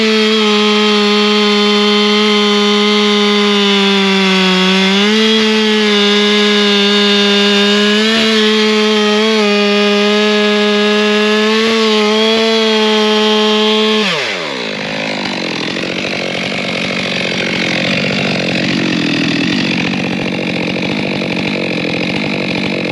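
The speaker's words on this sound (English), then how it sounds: "I'll get the chainsaw going again and we'll get this stump removed" A loud chainsaw cutting a tree stump whines at high revs, dipping and surging as it bites into wood, then drops to a rough, sputtering idle.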